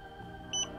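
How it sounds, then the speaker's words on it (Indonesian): A Xiaomi Yi action camera gives a single short electronic beep during a firmware update, faint over a quiet hum. "Bunyi beep ini nanti kurang lebih lamanya itu 1 menit"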